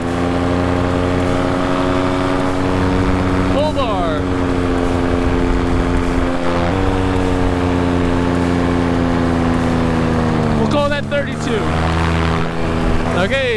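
Paramotor engine running at full throttle in flight at about 2,100 feet on speed bar, a steady loud droning hum with strong harmonics throughout, with brief wind buffeting and pitch shifts near the middle and end.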